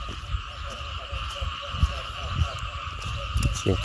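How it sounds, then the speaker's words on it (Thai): Many frogs croaking in a dense, continuous chorus with shrill insects, and a voice briefly audible underneath. "โอ้เสียงกบ"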